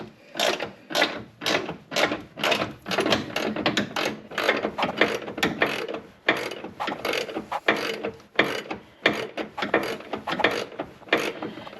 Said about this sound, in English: Something I gotta say about these ratchets